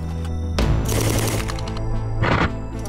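Arsenal MG1M machine gun in 7.62x54mm calibre firing outdoors, loud close bursts of rapid automatic fire with a brief gap between them.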